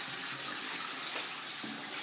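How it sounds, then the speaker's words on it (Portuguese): Tap water runs in a steady, continuous hiss, close by and fairly loud throughout, with a few faint knocks beneath it. "Desliga a torneira."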